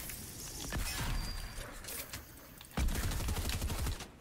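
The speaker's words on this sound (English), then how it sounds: "Charge shotgun." Charge shotgun firing in the Fortnite video game, loud gunshot blasts over mechanical clatter and in-game noise, with a heavier boom near the end.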